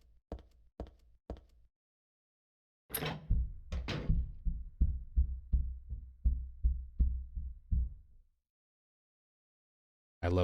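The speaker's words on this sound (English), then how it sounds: "Just that thudding, and it's so rhythmic" Rhythmic ambient thudding from the Silent Hill 3 video game: three soft knocks, a pause, then a run of about a dozen heavy, evenly spaced muffled thumps that fade out, alone without talk.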